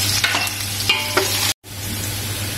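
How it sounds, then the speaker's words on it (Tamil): Chopped onions for mutton biryani sautéing in a pan while being stirred: a steady close sizzle with scraping spatula strokes, cut by a brief silent gap before the frying resumes. "வெங்காயத்தை சேர்த்து நல்லா வதக்கணும்."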